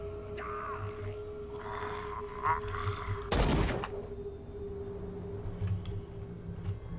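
Brief burst of gunfire in the first-person horror game Call of Cthulhu, a single loud broadband volley of shots standing out over a low droning ambient background, followed by quieter rumbling.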